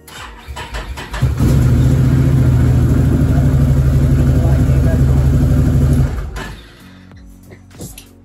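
A Can-Am Maverick 1000R side-by-side, under repair for a check-engine fault, cranks and catches, then idles with a loud, steady rumble for several seconds before shutting off. A voice is heard briefly around the start.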